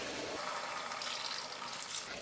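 Water pours steadily into a cooking pan on a gas flame with lamb rice, a continuous hissing splash lasting a couple of seconds with no talk.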